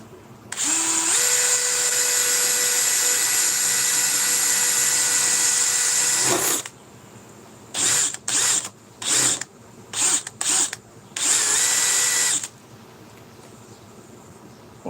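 A handheld power drill whines steadily for about six seconds while being worked into a wooden leg, then fires in a series of short bursts and one longer run, loud and close, with no talking.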